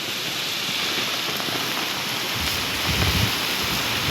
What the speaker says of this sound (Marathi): तर जोरानं पाऊस चालू आहे.